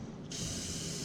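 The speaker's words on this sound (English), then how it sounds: "we'll go over here to this side, spray this all down." A close, loud hissing spray bursts on and continues steadily as the underside hardware of a Chevrolet Avalanche is sprayed down, with no voices.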